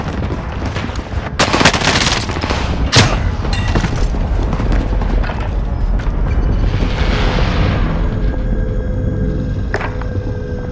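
Gunfire in Call of Duty: Modern Warfare, loud and sustained, with sharp close shots early on over a continuous roar of battle and explosions that thins out toward the end.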